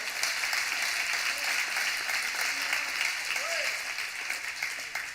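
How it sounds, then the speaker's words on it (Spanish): A church congregation applauds, a steady, dense wash of clapping that runs the whole time at moderate level and fades slightly toward the end, with faint voices underneath. "Dale un aplauso a Dios si lo crees."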